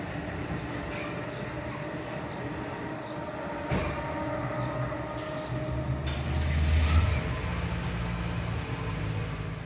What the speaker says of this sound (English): The first video shows an Acela train moving through the interlocking as it heads from Washington